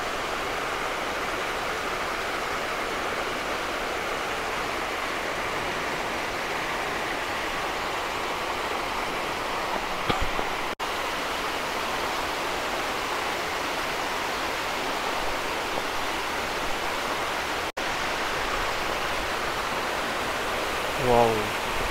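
Datun Falls on Yangmingshan roars as a steady, broad rush of falling water that stays constant throughout and drowns out everything else, with no voices standing out.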